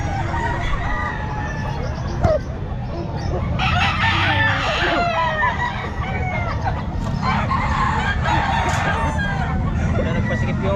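Roosters crowing at a Calumpit pet market among caged fowl, repeated crows and clucks from several birds close by, with a busy crowd chattering and calling out underneath.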